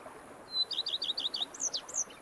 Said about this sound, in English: Bees buzzing, birds chirping.